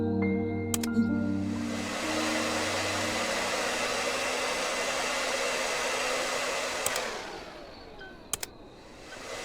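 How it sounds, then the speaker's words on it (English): A vacuum cleaner in the video game Undusted runs with a steady, even whooshing drone close up, broken by a few brief clicks and tapering off near the end, with no talking. "Probably why they gave the vacuum cleaner"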